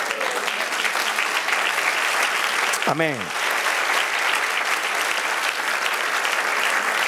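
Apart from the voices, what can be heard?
applause in church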